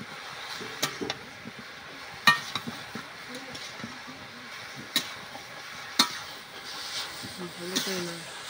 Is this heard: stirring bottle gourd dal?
yes